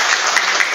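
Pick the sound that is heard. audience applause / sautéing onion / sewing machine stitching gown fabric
audience applause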